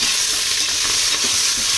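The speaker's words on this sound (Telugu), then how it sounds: "బాగా ఫ్రై చేసుకోవాలి." Chicken biryani ingredients with biryani masala, leaves and salt fry in a pan while being stirred, a loud close steady sizzle with faint scraping and no talk.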